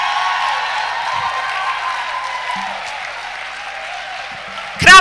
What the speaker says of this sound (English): Clap for her until she's here.